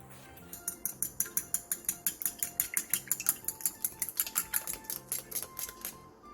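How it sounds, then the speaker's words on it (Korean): Five eggs are beaten in a bowl with a whisk or utensil, giving a quick, even run of about two dozen light clinks against the bowl, close and fairly quiet, with no talking. "계란 5개를 곱게 풀어주세요."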